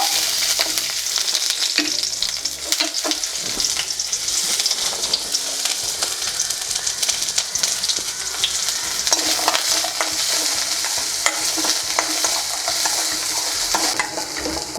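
Small shallots and garlic cloves sautéing in a pan for a sundakkai puli kuzhambu, loud crackling sizzle with frequent spatula scrapes and clatter throughout, close up and uninterrupted by speech.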